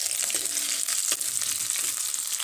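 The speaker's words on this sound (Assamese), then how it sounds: "ইয়াত দিম মই এতিয়া নহৰু আৰু এইখিনিও মই এতিয়া অকণমান ভাজি ল'ম" Onion and garlic fry in a pan with a bright, steady sizzle, broken by a few soft scrapes of stirring close up.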